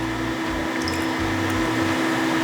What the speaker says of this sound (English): So Matt's going to rinse our cuvette out a few times with DI water.